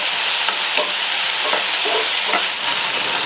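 Tomatoes and a little tamarind are sautéed in a pan for chow chow chutney, a loud close hiss of frying broken by several rhythmic scraping strokes of the spoon, roughly every half second; no one speaks.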